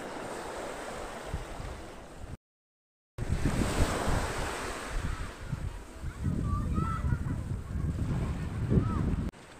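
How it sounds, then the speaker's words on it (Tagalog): Waves breaking on Caloco Beach, where coral offshore calms the water, heard as a loud, continuous surf roar with strong wind buffeting the microphone and a brief dropout partway through. "yan pumuputok talaga yung alon."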